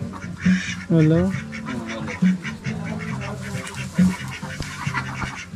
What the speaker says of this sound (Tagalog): Ang kukulit ng mga itik eh.